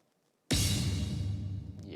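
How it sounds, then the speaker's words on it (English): Layered impact effect built in FL Studio from a crash cymbal, the classic FL Studio hit and a kick drum, striking once with a loud, full-bodied boom and a bright cymbal wash that rings on steadily. "We've got this impact effect, which is made up of 3 different sounds."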